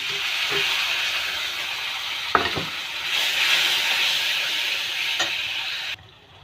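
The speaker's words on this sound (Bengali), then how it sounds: "আমার তেল গরম হয়ে গিয়েছে, কালো জিরা ঢেলে দেব, মশলাগুলি ঢেলে দেবো আমি।" Black cumin and spices hit hot oil in a pan, giving a steady loud sizzle and hiss with a few sharp crackles, which cuts off near the end.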